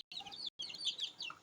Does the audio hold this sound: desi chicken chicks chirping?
yes